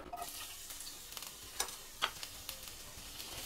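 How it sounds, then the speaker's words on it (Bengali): Onions drop into hot mustard oil and sizzle quietly, with soft stirring clicks and a couple of sharper crackles over the fry. "এবারে আমি এই পেঁয়াজগুলো আমি দিয়ে দিচ্ছি তেলের ওপর"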